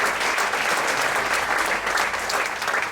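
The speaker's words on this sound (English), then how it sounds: "a round of applause for Tara and Odette for hosting" A crowd at a Bali venue claps for the evening's hosts, a continuous even wash of applause throughout at steady loudness.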